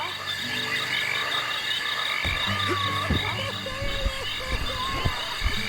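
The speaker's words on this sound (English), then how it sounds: "why are these crickets and frogs so loud?" A dense chorus of croaking frogs and chirping crickets in the video game Psychonauts fills the scene, steady and loud, with low game tones underneath.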